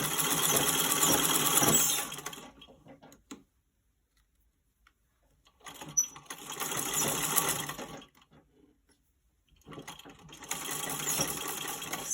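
A sewing machine stitches fabric for a pillow square in three clear bursts of steady, rapid mechanical whirring, each a few seconds long, separated by quiet pauses, close and fairly loud with no talking.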